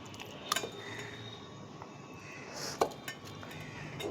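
Fish pieces for katla fish steamed in mustard, poppy seed and chilli paste set one by one into a steel tiffin box, giving a few light metallic clinks and taps over quiet room tone.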